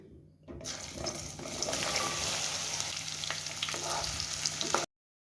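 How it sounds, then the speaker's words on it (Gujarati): Cut okra dropped into hot oil in a kadai, a sudden loud burst of frying that settles into a steady close sizzle with stirring clicks, then cuts off abruptly. "કડાઈની અંદર કટ કરેલા ભીંડા ઉમેરી લઈશું"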